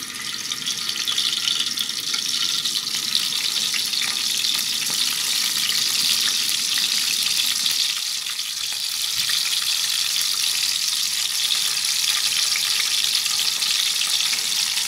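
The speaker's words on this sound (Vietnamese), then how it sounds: "Rồi bây giờ dầu nó sôi vậy nè các bạn, dầu nó nóng rồi ha, mình sẽ để cho mình chiên ha." Tofu frying in hot oil, a steady dense sizzle and crackle lasting throughout, close and fairly loud with no talking.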